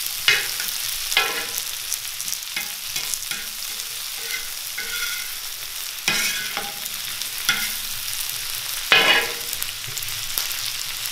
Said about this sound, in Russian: Их надо слегка обжарить и все.